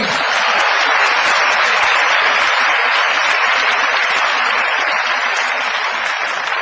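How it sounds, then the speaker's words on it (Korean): A lecture audience at Chungnam National University bursts into loud, continuous applause, a dense even roar of many hands clapping close by that lasts several seconds without speech. "박수 한번 치는 겁니다"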